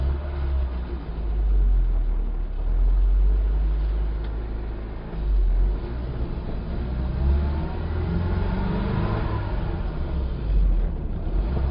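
Classic Mini on the road with its engine running, a steady low rumble that rises and falls gently with throttle, heard from inside the cabin for about twelve seconds with no talk.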